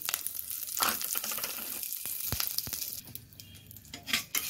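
Spices and curry leaves with a dried chilli sizzle and crackle steadily in hot oil during tempering, with a few light clinks of a utensil against the pan, no voices.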